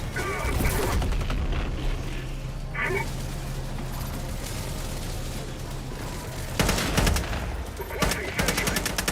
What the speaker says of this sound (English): Calling in an orbital strike. Orbital strike incoming.